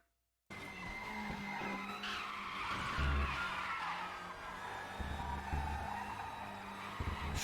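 Race car tires squeal and slide continuously through a hot lap in a racing game, with the engine droning loudly underneath and shifting pitch as the car balances on the throttle.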